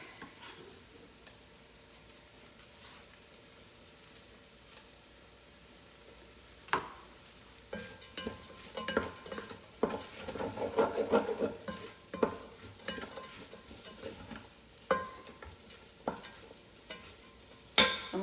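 Garlic sizzles in a soup pot as a spoon stirs it, soft frying crackle rising mid-way with intermittent scraping and knocks against the pot, close and fairly quiet, no talking.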